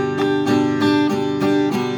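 A guitar is strummed with a pick in a jerky, tense manner, giving several sharp, evenly spaced chord strokes that ring close and loud with no talk.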